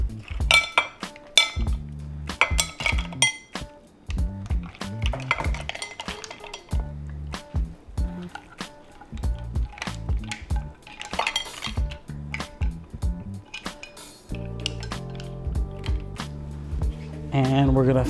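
Cooked drunken mussels in their shells clatter and clink into a serving bowl, with repeated scraping of a spoon against the pot and shells, under steady talk.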